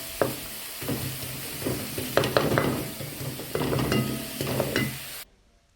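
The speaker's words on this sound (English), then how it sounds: "I'll cook the tomatoes until they make some paste." Tomatoes fry in a pan for a pork wet fry, a continuous close sizzle under repeated scraping strokes of a spatula, several in clusters, before the sound cuts off abruptly near the end; no one speaks.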